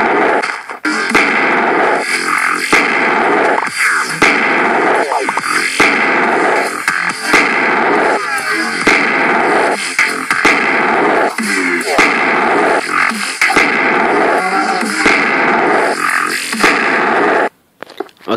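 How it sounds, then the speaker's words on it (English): A dubstep cannon fires in a Minecraft Pocket Edition 0.10.5 Dubstep Guns mod, loud pulsing wobble blasts and booming bursts that repeat rhythmically for about seventeen seconds before cutting off abruptly. "let's test the dubstep cannon"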